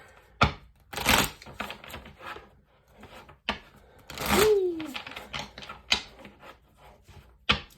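Tarot cards shuffle in short, crisp bursts with soft riffling and taps, close by and fairly quiet, with brief pauses between handfuls.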